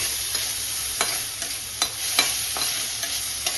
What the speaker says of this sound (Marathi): जिरं टाकलं मोहरी टाकलं अदरक लसणाची पेस्ट आणि थोडासा कांदा हे सर्व सुद्धा तेलामध्ये छान असं परतून घ्यायचं आहे